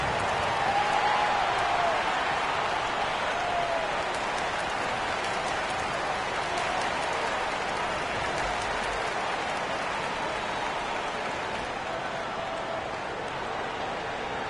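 An arena basketball crowd roars and cheers for free t-shirts during a break in play, a dense, continuous wash of voices and clapping that holds steady throughout.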